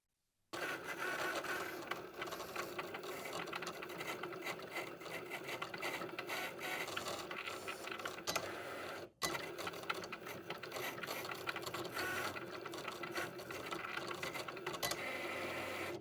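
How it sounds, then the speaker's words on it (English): Cricut cutting machine cutting a sticker sheet, a continuous mechanical whir and buzz of the carriage and blade running steadily for the whole stretch, with one very brief break partway through. "And then I'm going to take this and run it through the Cricut."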